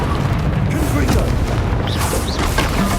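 Confringo fire spell in the Hogwarts Legacy video game, a dense booming blast with crackling burst textures, loud and continuous over the short span amid other combat effects.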